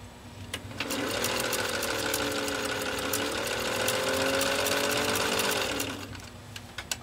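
A 1921 Domestic Benjamin Franklin Model 1790 sewing machine stitches through 12 layers of canvas binding tape, giving a steady, close, whirring run of about five seconds framed by light clicks at the start and end.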